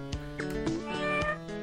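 A cat in the Glider PRO video game meows several times in close succession, clear and fairly loud, the drawn-out meows standing alone without talk.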